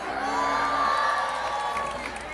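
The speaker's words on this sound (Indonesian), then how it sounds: "Tepuk tangan untuk Mbak Ika." Audience cheering and clapping at an Islamic study and Q&A gathering with Gus Miftah, a sustained crowd roar with shouts, held at an even moderate level.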